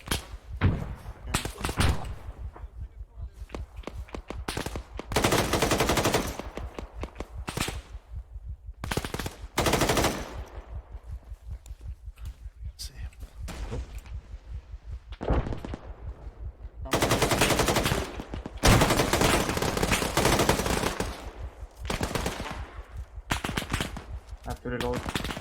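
Arma 3 video game gunfire: repeated bursts of loud automatic rifle fire and single shots in irregular clusters, with quieter gaps between them and occasional talk in the background.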